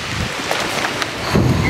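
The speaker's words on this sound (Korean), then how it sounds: "지금 비바람이 불고 있어요." Wind and rain gust around the Byeoksoryeong mountain shelter on a ridge trek, a steady broadband roar with brief rustling bursts, loud and close to the microphone, with no talk.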